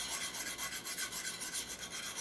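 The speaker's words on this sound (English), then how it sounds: "rest the hone on the heel, bring it onto the cutting edge. When I rock it and feel that it's flat, a small circular motion" A fine 600-grit hone rubbed in small circles across the cutting edge of a wood-turning tool, making a continuous soft, hissy rasp with a faint rhythmic pulse, close and alone.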